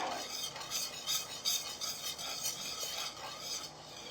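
A spoon stirs boiling homemade strawberry jam in a pot, a steady scraping swish repeating roughly every half second, close and fairly quiet with a faint bubbling underneath.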